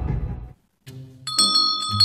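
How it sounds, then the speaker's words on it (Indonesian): A school bell rings to mark the start of class, a bright electronic chime of layered ringing tones that follows a brief low noise and a pause. "Lonceng masuk udah bunyi Mel."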